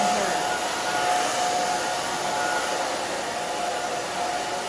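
A hair dryer blows steadily while hair is dried and styled after a bob haircut, a constant close whooshing roar with a faint tonal whine.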